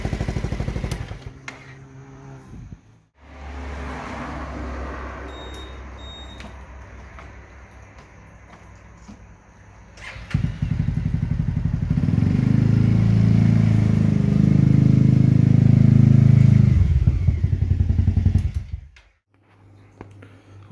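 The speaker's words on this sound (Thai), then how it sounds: "อันนี้ก็แค่เอารถมาสตาร์ทดู" Honda Forza 350 scooter fitted with a modified cam, starting up after a few short cranking attempts, idling, then revving to a loud sustained drone before cutting off.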